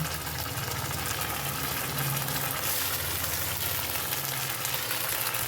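Ginger garlic paste frying in a hot pan, a steady broadband sizzle that holds at even loudness throughout with a low hum underneath.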